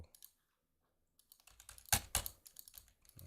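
Typing on a computer keyboard: a few soft taps, a pause, then a quick run of clustered keystrokes with a couple of louder clacks, fairly close and without speech.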